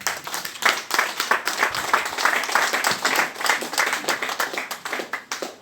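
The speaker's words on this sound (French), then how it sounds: "je voudrais que vous acclamiez la paroisse" A congregation at a Rainbow Diocese parish assembly in N'Douci, Côte d'Ivoire applauds steadily, with dense, sustained clapping from many hands throughout and no talking over it.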